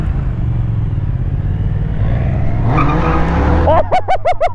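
A new Triumph motorcycle launches hard with a loud, close engine roar that swells and rises, ending in sharp, high-pitched rev bursts.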